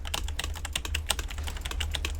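Rapid, dense clacking from a 60% mechanical keyboard, keystrokes tumbling in a quick irregular stream, close and crisp over a low background hum.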